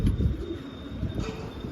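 Pigeons let out of their loft coo outdoors in soft, low murmuring calls, mixed with a faint outdoor rumble and light bird chirps.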